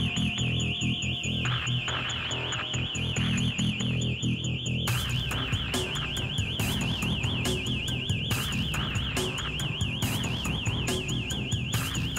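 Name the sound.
car alarm blaring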